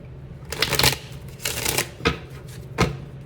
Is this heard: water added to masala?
no